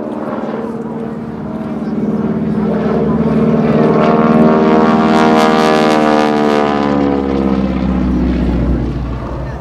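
A North American T-6 Texan single-engine propeller trainer performing a slow roll at a military airshow, its loud droning engine and prop rising and shifting in pitch as it passes close, with a commentator talking over it.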